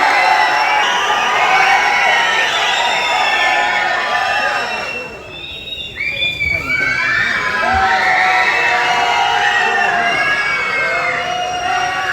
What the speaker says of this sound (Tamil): ஒரு மிகப்பெரிய கைத்தட்டலோட கோலிவுட் பிரின்ஸ் அண்ணன் சிவகார்த்திகேயன் அவர்களை அழைக்கிறோம்.